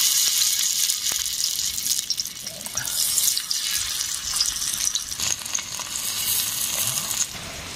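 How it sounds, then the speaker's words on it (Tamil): Thick chunks of masala-coated fish fry in sea oil, giving a steady, bright crackling sizzle that fills the clip with small pops and fluctuating intensity. "இப்ப வந்து பொறிச்சலாங்க பாருங்க, நல்லா முரட்டு மீன்."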